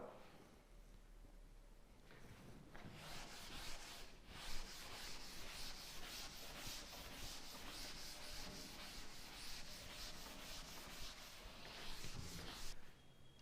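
Steady scrubbing as writing is rubbed off a board during a physics lesson, a continuous quiet rasping that lasts several seconds and is heard alone.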